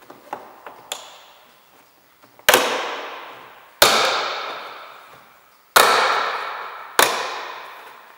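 A plastic removal tool prying door trim off a BMW 1 Series, giving a few light taps and then four sharp cracking pops spaced about a second apart, each ringing out and fading.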